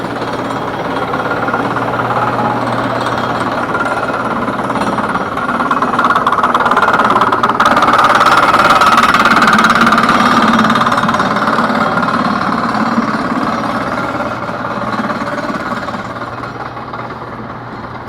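Loud construction noise from a building site passed on a city walk through Boston's North End: continuous jackhammer rattling and engine drone, steady and close throughout, with no talking.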